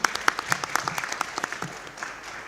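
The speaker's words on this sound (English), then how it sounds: "A round of applause for our panel" Applause from a civil society convention audience for a panel, a burst of scattered individual claps that thins out toward the end.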